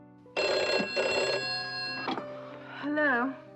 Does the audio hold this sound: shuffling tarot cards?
no